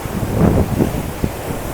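Sea waves roll against the Mumbai shore, a close, loud, continuous wash with a few surges, buffeted by wind noise on the microphone.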